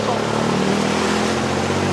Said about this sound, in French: Bon, bah là, je me retrouve dans un tuk-tuk.